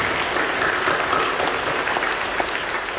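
Congregation applauding during a church service, a sustained wash of many hands clapping at a fairly steady level throughout, close and full, with no speech over it.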